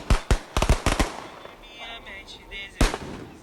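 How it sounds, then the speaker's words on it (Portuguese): Fireworks set off by residents in a Santo Antônio neighbourhood as a protest: a quick series of sharp bangs and cracks, then a further loud pop after a short gap, heard outdoors against a background rumble. "os moradores soltaram fogos como ato de protesto e homenagem às vítimas"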